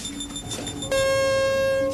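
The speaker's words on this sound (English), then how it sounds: "What's that noise? It's the intruder alarm." Intruder alarm in a building, kicking in with a sharp, steady electronic tone that holds loud and unbroken after a faint lead-in.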